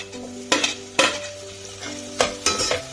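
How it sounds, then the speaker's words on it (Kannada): Chopped vegetables fry in oil in a pan with tomatoes, a steady close sizzle broken by several sharp scraping stirs of a spatula against the pan. "ಫ್ರೈ ಮಾಡ್ಕೊತಾ ಇದ್ದೀನಿ"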